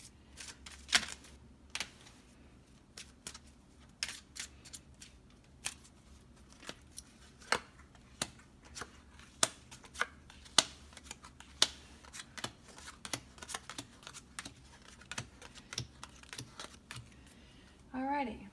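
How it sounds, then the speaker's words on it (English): Tarot cards being shuffled and handled in quiet, crisp snaps and flicks at an irregular pace, close by, with soft noises in between. "I like to see when a reader shuffles the cards before they pick them."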